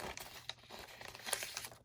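Fabric being trimmed for a handmade junk journal, a close run of crinkly rustling and small snips that rise and fall unevenly over a couple of seconds, with no talk.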